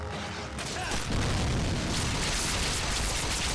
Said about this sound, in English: I love the explosion skill.